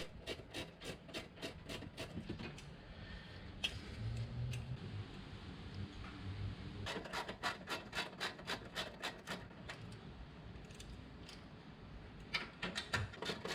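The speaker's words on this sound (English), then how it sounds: "Removing the three bolts on the heat shield." Ratchet work on the three exhaust heat shield bolts of a 2010 Kia Rio: rapid bursts of close, rhythmic clicking alternate with quieter scraping and rubbing of metal.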